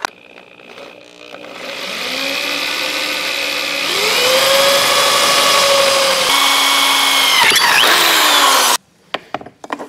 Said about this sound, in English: I'll drill that.